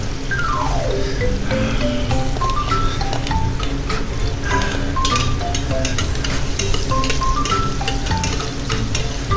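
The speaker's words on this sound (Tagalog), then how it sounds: "At igisa natin ang ating mga aromatics. Of course, bawang." Garlic and other aromatics such as ginger and onion sautéing in a hot pan while pares is being cooked. The sizzling is steady and close, with scattered ticks and clinks of stirring throughout and no talking.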